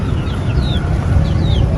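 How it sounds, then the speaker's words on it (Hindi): Egyptian chickens, a large purebred rooster with hens in a small backyard home zoo, give soft scattered clucks and chirps over a loud, dense outdoor background rumble, with no talking. "ये बड़ा नस्ली मुर्गा है, ये मुर्गी है, मिस्री मुर्गियाँ हैं"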